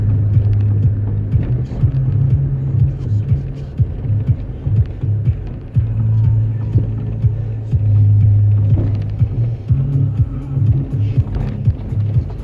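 A jeep drives along a rough road near Comrat, giving a steady low engine rumble and throbbing with some wind buffeting that rises and falls over the run, and no one speaks.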